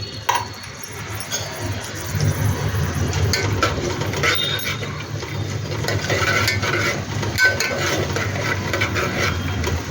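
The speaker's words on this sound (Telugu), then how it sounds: "ఎండుమిరపకాయలు, కరివేపాకు వేసి కొంచెం వేగనియండి." Dried red chillies and curry leaves fry in oil in a pan for dhaniya rice, a steady close sizzle with faint metallic stirring scrapes and clicks throughout, no talking.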